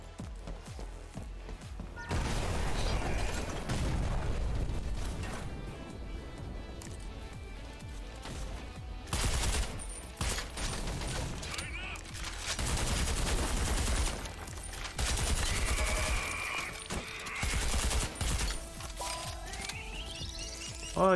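Grenade launcher firing in the shooter game Selaco, a series of loud bursts and blasts that repeat in clusters across the stretch, dense and close, with no talking over them.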